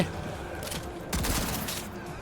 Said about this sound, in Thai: ตำรวจมายิงผม